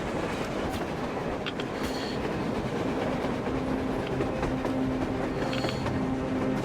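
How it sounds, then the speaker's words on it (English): Train rumbling along the surface in the video game Metro Exodus, a steady heavy roll of wheels with faint clanks and a thin squeal, continuous and fairly close, without speech. "A train! A damn train on the surface!"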